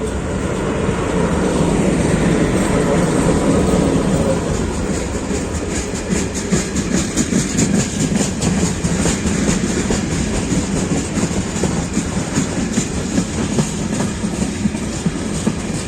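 Loud, steady rumble of a freight train rolling past close by on a freezing day, with rapid clickety-clack of wagon wheels over rail joints throughout.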